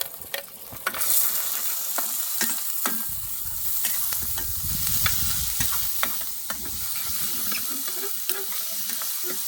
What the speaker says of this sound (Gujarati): હવે એમાં શિમલા મરચાં અને ટમેટું પણ એક છે એ આપણે અંદર નાખી દઈશું